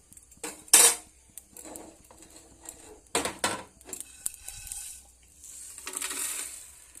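Dry-fried spices tipped out of a pan, with sharp metallic clinks and scrapes of utensil on metal, a few rattling bursts separated by quieter gaps, close and fairly loud.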